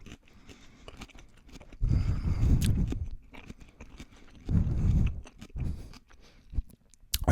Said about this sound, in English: I should probably finish chewing before I speak.